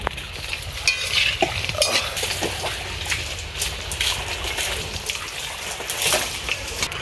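Chicken pakora frying in hot oil, a steady close sizzle and bubbling with occasional scraping and stirring clinks from a utensil, continuous throughout with no voices.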